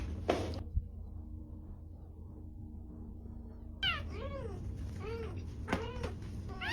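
Cats meow repeatedly during a fight, a brief cry at the start, then a run of close, rising and falling meows over a steady low background hum.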